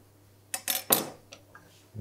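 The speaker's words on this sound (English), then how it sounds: "I'm just going to use a spoon." A metal spoon clinks and scrapes against a dish while serving braised blade of beef, with three quick close clattering knocks followed by a couple of lighter taps, over a low steady hum.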